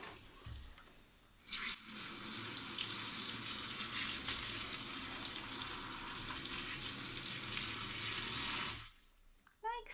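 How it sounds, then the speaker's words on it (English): Water runs steadily for several seconds, filling an orchid pot of leca beads in semi-hydro culture and draining, as a close, bright, continuous splashing that starts and stops abruptly. "So all you need to do, it is to fill up the pot and let it drain."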